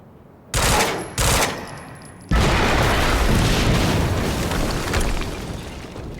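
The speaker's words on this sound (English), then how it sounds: "HQ, we just heard an explosion near the harvesting perimeter." Heavy explosions in the action video game Quantum Break: two sharp booming bursts, then a massive, roaring blast that rumbles on loudly for several seconds.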